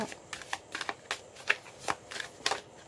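Oracle cards shuffled for a tarot-style reading, a steady series of soft papery riffles and flicks at an even rhythm, close and quiet, with faint speech in the background.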